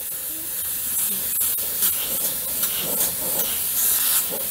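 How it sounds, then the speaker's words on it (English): Airbrush spraying opaque white paint through a stencil texture template, a steady close hiss of air and paint that runs without a break and is heard alone. "you can just spray this thing around"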